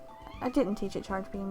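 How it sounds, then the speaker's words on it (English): Angry pet cat meows several times in a row, loud and clear near the microphone, while someone talks over it. "there's my cat over there, you can hear her, she's meowing because she's angry"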